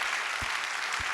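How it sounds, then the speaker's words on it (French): Hall applause for local publishers at a closing session in France, heard as a steady wash of many hands clapping at moderate volume, with a couple of low thumps breaking through. "Les éditeurs locaux, ça mérite qu'on les applaudisse."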